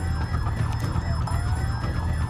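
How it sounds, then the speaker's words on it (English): Wailing alarm sounding in the Roblox video game Field Trip Z, a loud, steady, rising and falling electronic siren over a low rumbling background, no voices. "The alarm started the zombies."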